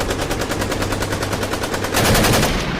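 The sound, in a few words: gunshots from four guns fired together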